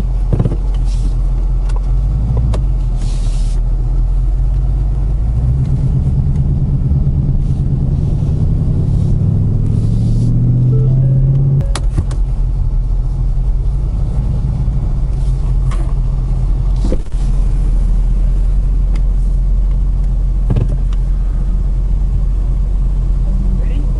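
A 2019 Ford Mustang GT Premium accelerating on a freeway, its engine a loud, steady low rumble with a rising tone partway through, heard from inside the car with people talking over it.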